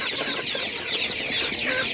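A dense crowd of young chickens cheeps and clucks steadily at an outdoor animal market, a busy, continuous chorus close at hand with no speech.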